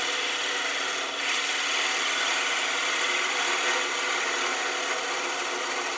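A woodturning lathe cuts a wooden egg at raised speed, giving a continuous bright hissing scrape from the tool on the spinning wood, steady and close with a brief dip near the start and no talk.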